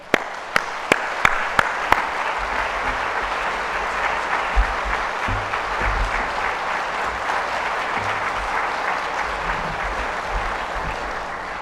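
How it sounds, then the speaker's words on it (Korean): A church congregation claps to welcome a speaker at a Sunday service, a few sharp single claps first, then sustained, even applause from a large room filling the full stretch. "큰 박수로 우리 환영하실까요?"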